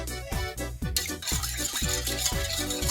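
Kefir with a pinch of salt and eggs is stirred in a bowl, making quick, steady scraping and sloshing strokes at close range, with no talking.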